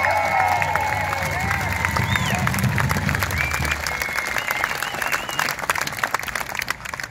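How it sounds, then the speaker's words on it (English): An outdoor rally crowd in Brisbane applauds paramedics from the ambulance service with sustained clapping and some cheering, loud and dense at first and gradually thinning, with faint voices mixed in. "Give them a clap."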